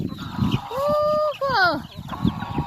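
Chickens in a farm pen cluck and squawk close by in short rising and falling calls, with people talking and laughing around them.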